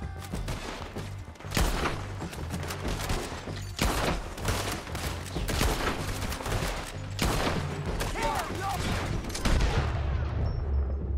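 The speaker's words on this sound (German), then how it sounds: "Warum ich da jetzt noch geschossen habe." Gunfire in Red Dead Redemption 2, with a loud barrage of rifle shots and explosive bursts repeating throughout over a constant low rumble of game sound.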